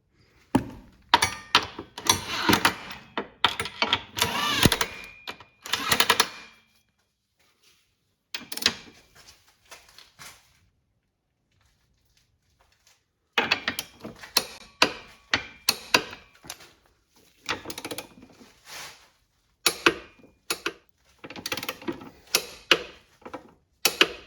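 A ratchet wrench clicks in rapid, uneven bursts while tightening trailer hitch bolts on a Toyota Sienna Hybrid, close and crisp with quiet gaps between sets of strokes.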